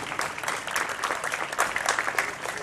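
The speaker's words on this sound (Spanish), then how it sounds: "Fuertes aplausos para la juramentación respectiva" A crowd applauds at the swearing-in ceremony for the 2014 school Olympic games, with dense, steady clapping that swells and holds throughout with no voices over it.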